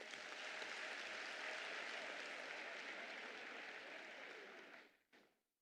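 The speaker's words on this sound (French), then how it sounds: "Applaudissons-les." An audience at an extraordinary party congress of the PDCI-RDA applauds campaign volunteers, a broad, sustained crowd clapping that fades out toward the end, followed by a brief final burst of claps.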